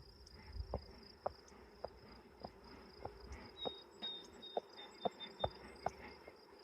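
Honeybees in a newly installed package hive, stirred up after smoking, give a faint, thin buzzing tone with small scattered clicks and taps throughout, and no voices.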